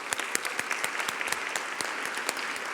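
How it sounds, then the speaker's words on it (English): A round of applause breaks out at a school board of education meeting, steady clapping from a crowd in a hall, sustained and fairly even with sharper individual claps standing out. "So I'm going to give you a round of applause"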